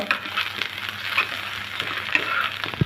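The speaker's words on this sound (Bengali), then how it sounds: "দিয়ে দেবো পাঁচ মশলা দিয়ে ভালো করে নেড়ে চেড়ে নেব" Red amaranth leaf pickle with five-spice stirred as it fries in a pan, a steady close sizzle with light scraping of the spoon and no talk.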